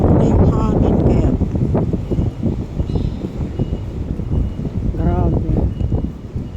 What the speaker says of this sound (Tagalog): Oh, grabe yung hangin. Sobra yung hangin kaya.